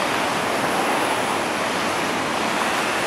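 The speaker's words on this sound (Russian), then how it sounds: "В таком месте, где она водопадом стекает." In winter, the Sochi River spills down as a waterfall in a loud, steady, close-up roar of rushing water that never lets up, with no voices.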